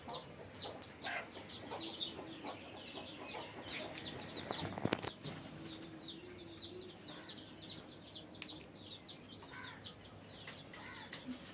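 Native chickens and a young rooster on a small country farm, clucking and chirping repeatedly at a moderate distance, soft and scattered over a quiet background with a brief louder rustle in the middle.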